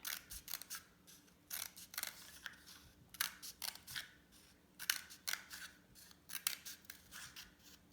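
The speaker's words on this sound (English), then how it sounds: "you're going to cut little tiny lines all the way around" Scissors snip tiny lines into paper for dandelion craft art, a close, quiet run of crisp clipped cuts coming in quick bursts with short pauses between them.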